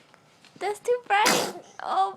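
A baby gives a single sharp sneeze, a short loud burst between bits of close adult talk indoors.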